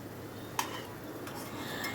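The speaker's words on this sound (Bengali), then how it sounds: "এবার আলুগুলোকে আমি অন্য একটা পাত্রের ভেতর তুলে রাখছি" Fried potatoes are lifted out of the pan into another pot, with a single clear metal clink of a utensil against cookware and a few softer scrapes over a low kitchen hiss.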